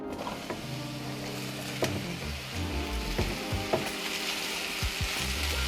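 Mushrooms frying in hot oil in a pan give a constant close sizzle and crackle, with occasional clinks and stirring scrapes over the steady hiss.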